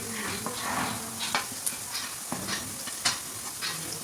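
A spice paste with salt and turmeric sautés in a pan, a soft sizzle punctuated by a handful of sharp scrapes and taps from the stirring spoon at irregular intervals.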